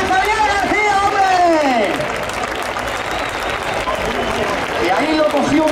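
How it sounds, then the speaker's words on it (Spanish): Crowd at a bullfighting cutting contest in Arévalo gives a loud ovation for a bullfighter, sustained clapping and cheering with shouting voices and babble over it. "Fuerte ovación para Javier García"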